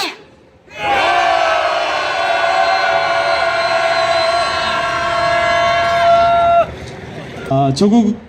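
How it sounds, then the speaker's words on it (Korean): A rally crowd of workers outside the presidential office in Seoul lets out one loud, sustained shout that lasts about six seconds, then breaks off into scattered voices. "앞에 계신 청와대가 들썩들썩 할 수 있도록 함성 5초간 시작하겠습니다."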